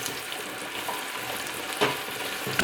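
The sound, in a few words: carrots and onions frying in butter for lentil soup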